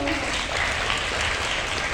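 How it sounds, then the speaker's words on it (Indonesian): Sustained audience applause at a national seminar, a dense even wash of many hands clapping that fills the room from start to finish, with a voice faintly audible underneath. "Terima kasih, tepuk tangan dong"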